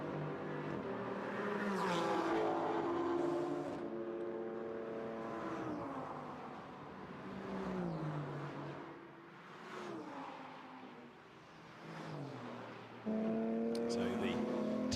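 GT4 race cars run in pre-qualifying at the Jeddah circuit, engines heard faintly and distantly, revving and shifting with rising and falling pitch, under continuous live commentary.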